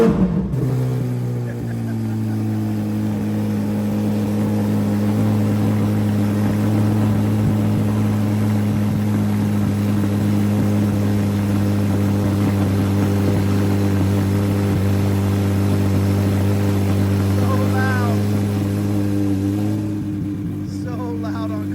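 A Chevrolet Corvette C8 Z06 engine roars very loudly up close in a steady, sustained drone at drag racing, holding a deep constant tone throughout before tapering at the end.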